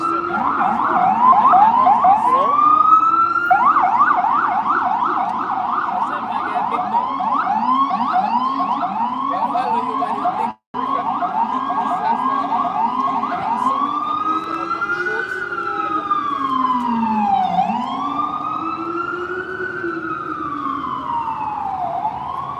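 An ambulance siren passes close by, loud and continuous, first a rapid yelp wail and then slow rising and falling sweeps, with no talking over it.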